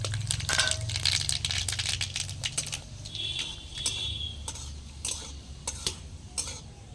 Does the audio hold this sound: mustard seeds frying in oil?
yes